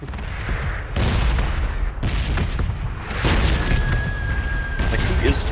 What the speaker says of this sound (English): Like, who is dropping these mortars?